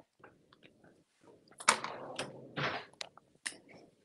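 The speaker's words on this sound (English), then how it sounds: "I forget that you can hear me chewing right over my earbud." Tuna salad is chewed close to an earbud microphone, producing moist, crunchy bites and mouth clicks in irregular bursts, loud and intimate against quiet.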